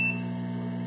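A multimeter on its continuity setting gives a short steady electronic beep across a shorted capacitor on a Moto G2 phone board, a sustained tone lasting under a second.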